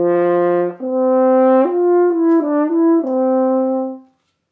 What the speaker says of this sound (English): this is the sound of the open French horn.